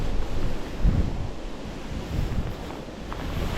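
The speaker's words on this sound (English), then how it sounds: "Conditions are really rough right when it comes to the wind anyway" Rough, gusty wind buffets the microphone beside the water during a fishing outing, with broad waves and surf rushing steadily underneath, swelling and easing in uneven pulses with no talking.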